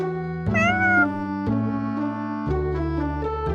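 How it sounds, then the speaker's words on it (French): A cat gives several medium-length meows in a row, close and clear, each a tonal cry with a slight pitch bend. "Un miaulement de durée moyenne peut signifier qu'il veuille de l'eau ou de la nourriture."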